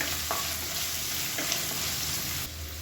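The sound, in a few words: onions frying in a pan for kurma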